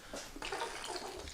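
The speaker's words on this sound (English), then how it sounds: "Every day I fill up this water bottle." Running water filling a water bottle, a steady hissing, splashing stream that holds close and even throughout without talk.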